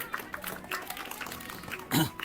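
Quiz show audience applause breaks out briefly and moderately loud near the end, following a host talking over a low room background.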